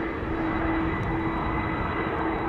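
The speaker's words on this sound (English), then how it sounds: "the mic is probably picking up the engine sounds of the A330 that's all of a sudden turned towards us and towards the mic" Airbus A330 jet engines at Amsterdam Schiphol Airport, a continuous loud roar with a steady whine, heard close by and uninterrupted, with no voices.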